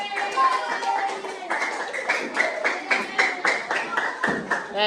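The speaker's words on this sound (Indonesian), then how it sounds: "boleh silahkan kasih tepuk tangan buat teman kalian" Fifth-grade pupils in an Indonesian primary classroom clap for a classmate's water-cycle drawing, a rhythmic, fairly close patter of hand claps in quick regular beats lasting several seconds.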